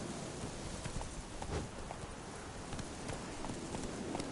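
Hooves of the horse Roach clip-clopping in The Witcher 3, a steady moderate rhythm of soft thuds at a trotting pace, fairly quiet and continuous throughout.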